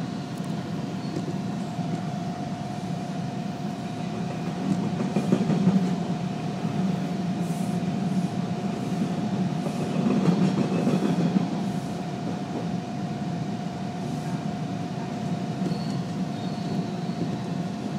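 Toronto Yonge line subway train running between stations, a steady loud rumble with a constant motor whine and faint rhythmic wheel clatter throughout.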